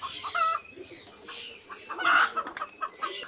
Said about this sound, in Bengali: আরেকটা টার্কি কিন্তু এখানে ডিম পাড়তে বসছে